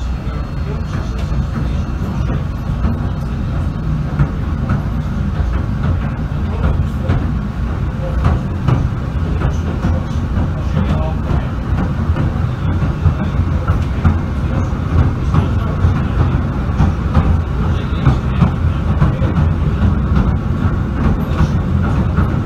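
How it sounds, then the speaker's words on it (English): The Southend Pier train rolls steadily along its rails, a continuous rumbling ride with faint rhythmic clatter throughout, heard from on board with no talking. "the Southend Pier Train."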